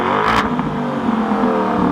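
A loud, deep Lamborghini Urus SUV engine revving up close, a strong rumbling roar with a brief rattling burst near the start before settling into a sustained growl.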